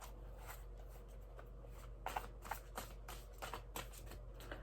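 Tarot cards being shuffled in a quiet room, soft and close, with a run of short riffling and tapping bursts in the second half over low background hum.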